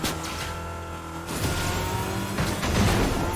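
Car driven in the video game Fortnite, a steady engine drone with a surge in intensity partway through, continuous and fairly close, with no talking.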